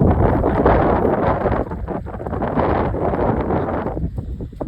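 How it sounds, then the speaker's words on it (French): Strong wind blows through a garden of olive trees, lavender and a mulberry in August, a loud rumbling roar that buffets the microphone in uneven gusts. "il y a du vent, j'espère que ça va aller."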